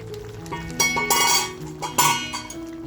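A spoon works through crab curry in a pan, giving a few scraping clinks and two louder stirring sweeps over a quiet hum, close and fairly soft.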